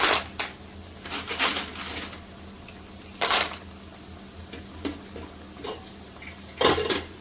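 Clam curry stirred in a pot, with several separate bursts of spoon scraping and clatter against the metal, sharp and close, spaced by quieter gaps.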